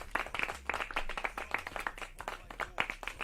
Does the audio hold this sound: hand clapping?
yes